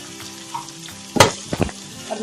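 Onions and spring onions sauté in a pan for restaurant-style chicken fried rice, a close, soft sizzle broken by a few louder stirring scrapes near the middle, with no one talking.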